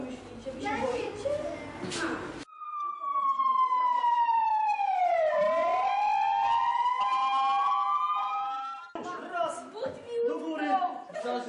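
A loud fire engine siren wails at a volunteer fire station, sweeping down and back up in a long rising and falling tone, with voices chattering before and after it.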